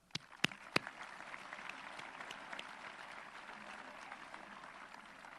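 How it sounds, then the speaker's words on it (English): Audience applause fills an Oliver Ames High School graduation ceremony in 2016: a steady wash of many hands clapping at moderate distance, opened by a few sharp, close claps, continuing evenly with no voices on top. "Please give them a round of applause."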